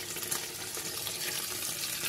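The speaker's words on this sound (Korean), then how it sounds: "그랬더니 막 더 지글지글지글지글 거리네요" A large half-dried sea bass fries in plenty of oil in a pan, giving a steady, dense hiss of sizzling heard close and alone.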